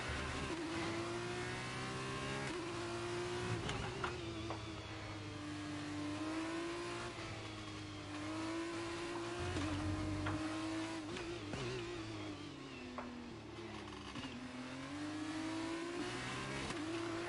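Formula 2 race car engine in F1 23 at the Bahrain circuit, a loud steady high-revving whine with pitch dips and climbs as it shifts down through gears, continuous throughout with no talk.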